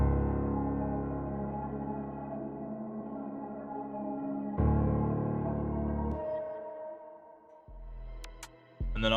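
Two synth pads layered together for a dark brass sample hold thick, sustained chords that change a few times. The blend plays loud and full with no voices, and brief bright ticks come near the end.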